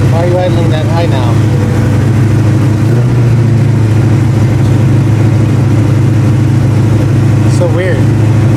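A 1989 Ford Mustang notchback with a freshly rebuilt carburetor idles high at about 2,000 rpm, a steady, loud, close engine drone that holds level throughout while someone talks over it.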